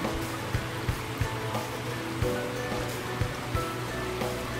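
Water pours over spillway bowls and drains into a small hole in the ground at a display pond, giving a steady, soft rushing splash with a few brief louder splashes.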